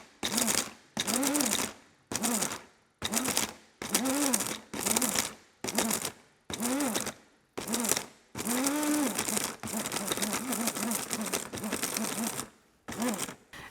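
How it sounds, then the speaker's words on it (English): An electric spice or coffee grinder grinds acorns into flour in a series of short, loud whirring bursts separated by brief pauses, ending in one longer continuous run, close up. "I'm using a spice or a coffee bean grinder"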